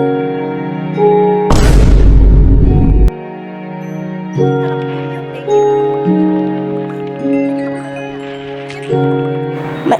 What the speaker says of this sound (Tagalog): Pinutukan ako ng creeper kaso yung pumutok siya may nakita akong coal.